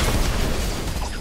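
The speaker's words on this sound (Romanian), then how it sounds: "Stai că am dat drumul la explozii." Video game explosions: a dense, loud burst of explosive rumble fills the whole moment, a continuous roar of booms with no pauses.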